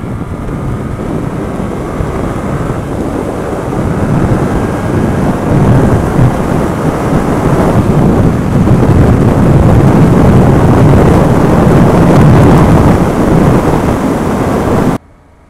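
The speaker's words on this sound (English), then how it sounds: "obviously you're going to get wind" Loud, steady roaring wind buffets the microphone while a motorcycle travels fast along a motorway, a broadband rush that swells slightly and cuts off abruptly at the end.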